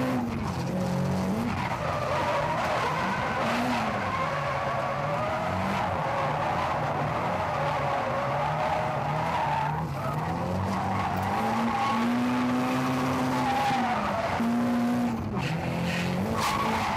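Drift cars at the 2001 D1GP round at Nikko Circuit squeal their tires continuously through a high-speed corner, a long wavering screech over revving engines heard from a distance and fairly faint.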